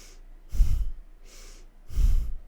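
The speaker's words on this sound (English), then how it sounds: "We're breathing through the nose here." Fast yoga breathing in and out through the nose during a Kundalini spinal warm-up: two strong, airy exhales alternate with softer inhales in a quick, even rhythm, close and clear with no talking.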